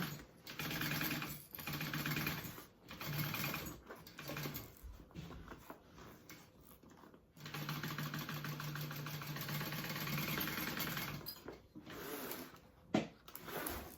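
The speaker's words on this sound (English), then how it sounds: "you want to sew that at a 3/8 inch seam allowance" Sewing machine stitching the boxed corners of a canvas tote bag at a 3/8 inch seam allowance, running in steady close bursts of rapid stitching with short pauses between runs.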